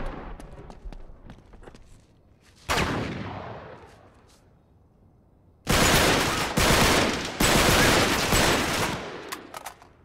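Gunfire from the video game Uncharted 3 sounds in heavy bursts. Scattered shots are followed by a loud volley and then two sustained barrages of rapid automatic fire, with sharp single cracks near the end.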